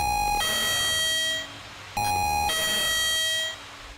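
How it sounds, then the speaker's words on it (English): A motion alarm just outside a morgue sounds two long electronic tones, each a bright ding-like chime falling to a lower sustained note, loud and close with no talk. "alarm was triggered just outside the morgue"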